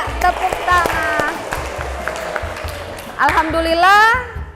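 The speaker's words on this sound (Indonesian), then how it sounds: "Ya, tepuk tangan." Classroom audience clapping at the end of a teaching session, a steady patter of hands under a teacher's amplified voice and children's voices, swelling again near the end.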